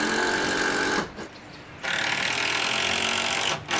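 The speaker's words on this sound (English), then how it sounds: "Fix your board down two screws per joist." A power drill drives screws into wooden decking boards in loud whirring bursts, with a short pause between runs and a brief dip near the end.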